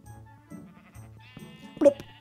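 A sheep in Minecraft bleats once, short and fairly loud, near the end, following a stretch of quiet game ambience with faint repeating tones and soft clicks.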